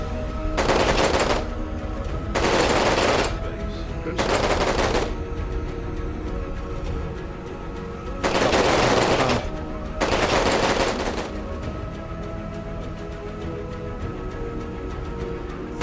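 Sci-fi RTS auto cannons fire in five loud sustained bursts, each about a second long and evenly spaced over a steady game hum; a synthetic voice announces briefly.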